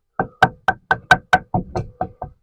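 Ten sharp knocks in steady succession as a wooden block hammers aluminium window trim off a GMC van's fixed window, close and loud, with no talk over them.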